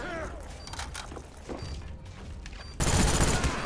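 Gunfire in a Black Ops match on Xbox 360, a rapid volley of shots that grows louder and denser near the end, with a voice speaking over part of it.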